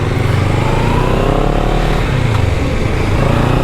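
A 2023 CFMOTO 700 CL-X motorcycle is ridden with a jerky throttle, its engine droning loud and close with a steady rumble and slight surges, as if heard from the rider's position.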